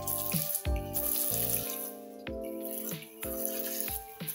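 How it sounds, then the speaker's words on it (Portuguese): Water running from a backyard shower fixture, steady rushing flow with repeated rattling knocks and a constant tonal hum throughout. "Parece um chuveiro, né?"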